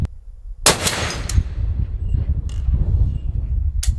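A suppressed Barrett M107 rifle fires a single loud shot at a target 1,000 yards away, followed by a sustained low rumble, and a second sharp report comes near the end.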